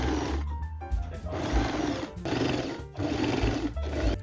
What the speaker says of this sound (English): Now pin the strap to the armhole right sides together. And we are going to sew all the way around.